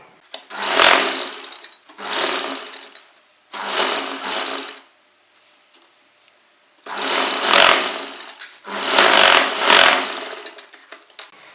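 A sewing machine double-stitches seams on an Afghani salwar, running in five loud close bursts of rapid whirring, each a second or two long, separated by short pauses.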